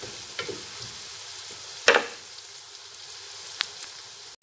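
Onion and carrot fry together in a pan, a steady close sizzle broken by a few sharp stirring scrapes and clacks, with no talking.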